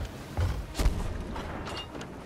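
Cannon fire aboard a ship in the pirate game Sea of Thieves, with two dull booming thumps close together early on, followed by quieter rumbling game noise.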